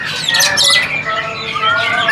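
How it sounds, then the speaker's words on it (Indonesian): A murai, or white-rumped shama, sings at a bird kiosk in Pramuka market, bright varied chirps and whistles close by and loud, with other bird calls mixed in. "Murai warna nih"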